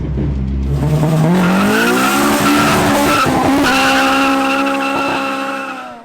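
Tires on a Honda CRX with no sway bar squeal loudly as the car skids through a corner under light braking and its rear end swings around, with a sustained rising screech and engine noise and no talking.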